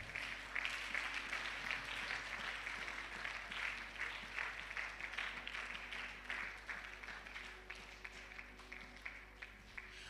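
A church congregation claps hands together, a dense, steady wash of applause that runs the full length without pause and stays at a moderate level, with no clear talking over it.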